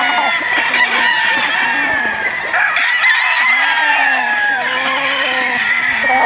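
Many fighting roosters, battle stags and bullstags at a gamefowl farm crow over and over in a dense, overlapping chorus, loud and close, with clucking mixed in.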